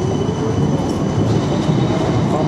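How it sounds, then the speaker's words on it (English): A train in Amsterdam rumbles loudly and steadily up close, with dense low-frequency rolling noise continuing throughout, without any talking. "John, you need to get on that train, John."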